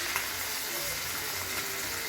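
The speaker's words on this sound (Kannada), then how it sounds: "ಇವಾಗ ಇನ್ನೊಂದು ಸೈಡು ತಿರುಗಿಕೊಂಡು ಫ್ರೈ ಮಾಡ್ತಾಯಿದ್ದೀನಿ" Fish tawa fry sizzling in a pan, the second side frying: a steady, even hiss of hot oil and crackle running throughout, fairly close and continuous with no voices.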